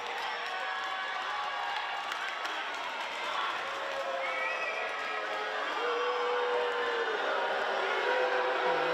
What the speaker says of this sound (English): Home crowd at the AIS Arena getting a little restless.